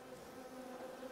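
Honeybees buzzing at a hive during winter preparation, a dense, continuous droning hum, fairly faint and close, with no talking.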